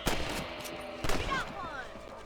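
Shots ring out at rabbits in Red Dead Redemption, two sharp gunshots about a second apart, each followed by a short echoing tail, with in-game voices talking.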